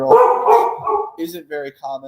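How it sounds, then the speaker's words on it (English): Dogs bark loudly and close by at a home during a hockey draft stream, a burst of overlapping barks followed by several shorter sharp barks, with someone talking over them. "Apologize for my dogs here, but they're barking a storm."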